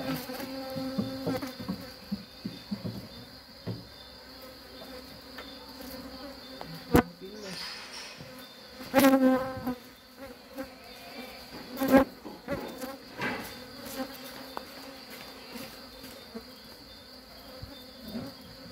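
A honeybee colony buzzes steadily while two colonies are merged into one hive box, with a dense close drone throughout and scattered knocks and handling bumps over it, and no talking.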